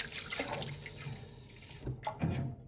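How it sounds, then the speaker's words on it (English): Running tap water pours over a cleaned stainless steel pot being rinsed in a sink, a steady close splash with brief louder surges near the end. "Just gonna rinse, one last rinse right here."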